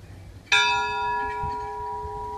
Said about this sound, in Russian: бей колокола